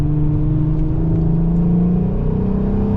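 VW Golf R32 with a loud non-resonated Scorpion exhaust under load, a deep, steady droning engine and exhaust rumble held close and loud for about three seconds, with no voices.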